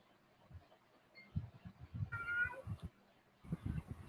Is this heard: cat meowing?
yes